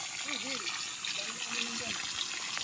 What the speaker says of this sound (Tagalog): Mayroong tubig na umaagos.